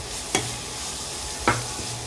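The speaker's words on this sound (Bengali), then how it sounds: "সবজিগুলো ভাজা ভাজা হয়ে গিয়েছে," Vegetables seasoned with white pepper and salt fry in a pan for shrimp fried rice, a steady close sizzle broken by two sharp scraping stirs of the spatula.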